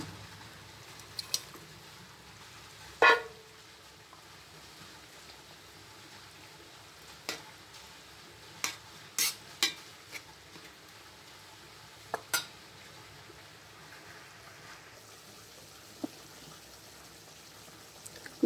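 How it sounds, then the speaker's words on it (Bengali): Fried faissa fish going into a hot pan for a bhuna: a faint, low sizzle runs throughout, broken by a handful of sharp clinks and taps from a utensil against the pan. "যে ভাজি করা মাছটা এখন আমি দিয়ে দেবো"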